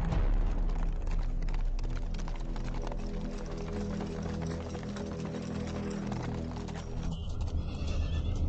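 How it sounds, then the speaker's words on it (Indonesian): A horse gallops with steady clip-clopping hooves and gives a loud neigh near the end, set against a dense background of music and ambience in a period drama scene. "Ternyata aku tahu cara menunggang kuda."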